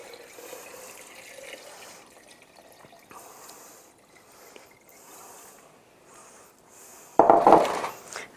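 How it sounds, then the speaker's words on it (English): Brine pours over homemade feta cheese, a sudden loud gurgling splash near the end after quiet, faint clinking handling sounds. "So we're just going to pour in our brine."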